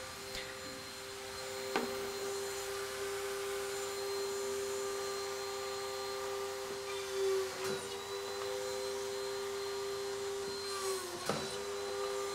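A TSM-22 pocket machine cuts pockets into a 36-inch panel, giving a steady mechanical drone with a constant tonal whine and a few brief sharp clicks and bumps spaced through it.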